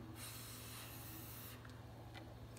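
Voice imitating a deflating balloon, a long steady breathy hiss held for about a second and a half, then tailing off into faint soft noises, quiet and close.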